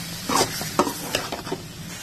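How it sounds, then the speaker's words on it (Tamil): Chicken shallow-frying in a pan, with a steady close sizzle broken by several sharp scraping stirs at an uneven rhythm, and no voices. "இந்த மாதிரி ஷாலோ ஃப்ரை பண்ணி இந்த மாதிரி நம்ம பண்ணும்போது பாத்தீங்கன்னா ஈஸியா குக் ஆயிடும்"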